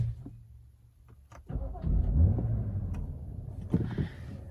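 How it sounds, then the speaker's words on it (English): 2015 BMW 335i GT engine starting: a brief starter whir, then the engine catches and settles into a quiet, low idle, heard close. "So let me start up this car."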